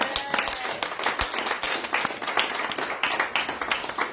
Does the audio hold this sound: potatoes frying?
no